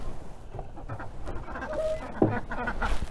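Ducks let out of their pen in a winter garden give scattered quacks and fowl calls amid outdoor rustling and movement, moderately close, with no clear talk.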